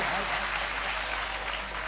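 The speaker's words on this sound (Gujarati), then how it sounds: "તાળીયું પાડો, તાળીયું પાડો." Audience clapping during a live comedy show, a steady, fairly faint spread of many hands with a low hum underneath.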